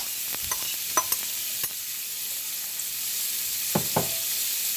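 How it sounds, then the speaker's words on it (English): Sliced onions sauté in butter in a pan for a cream sauce, giving a steady soft sizzle broken by a few sharp utensil clicks and stirring scrapes, close by with no talking. "the onions have been sauteed"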